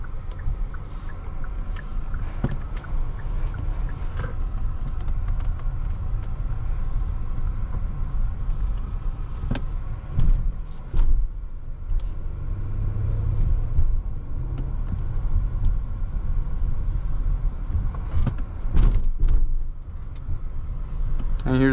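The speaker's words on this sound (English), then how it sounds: "let's see how this Palisade Calligraphy feels on the road" A 2024 Hyundai Palisade Calligraphy SUV cruises on the road, a steady low cabin rumble of tires and engine with occasional clicks and bumps, while a person talks over it throughout.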